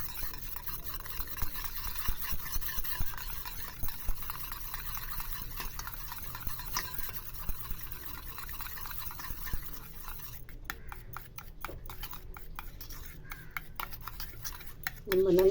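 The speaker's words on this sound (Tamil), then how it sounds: "இப்போ இது 3 பொருளை வச்சு நல்லா கலக்கிக்கணும்" Aloe vera gel and a vitamin E capsule being stirred together into a cream in a small bowl, soft scraping and tapping of a spoon, quiet and close, with brief clicks toward the end.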